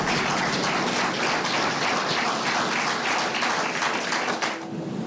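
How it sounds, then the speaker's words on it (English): Sustained applause fills a courtroom after life sentences are read at a trial, with many hands clapping in a steady, dense roar that fades slightly at the very end. "The applause that happened"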